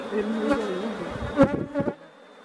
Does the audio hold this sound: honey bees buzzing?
yes